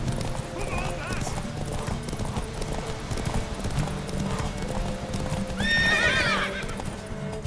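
Horse in The Witcher 3 video game, a mare, clip-clopping steadily on hooves before letting out a loud whinny near the end, with game dialogue spoken over the hoofbeats.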